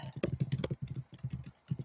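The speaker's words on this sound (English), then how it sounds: "I'm typing here" Rapid clicking keystrokes on a computer keyboard, typed in quick irregular bursts close to the mic, with a brief pause midway.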